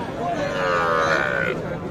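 Young calves low and moo amid the continuous crowd noise of a busy cattle market, with animal calls rising over the dense background chatter.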